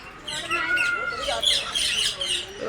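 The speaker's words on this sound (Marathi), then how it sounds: "हे सब पॅरोट आहे अंदर." Several birds chirp and squawk continuously in shrill overlapping calls, fairly close, with busy chattering throughout and no pauses.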